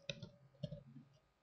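Two quick computer mouse clicks, close and crisp, in an otherwise quiet room with nothing else going on.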